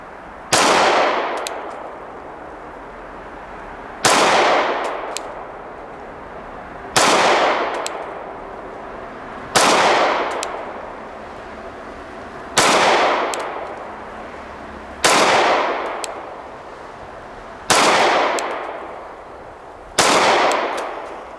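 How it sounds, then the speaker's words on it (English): Eight evenly spaced pistol shots from a Sig P320 Compact with a factory trigger upgrade, fired at 3 yards, each a sharp loud crack with a decaying echo, no talking. "I'm much more interested in shooting the gun than I am the mechanics of it."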